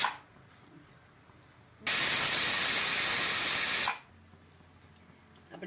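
A pressure cooker holding green chickpea curry lets off a loud, steady hiss of escaping steam for about two seconds, heard alone with near silence before and after.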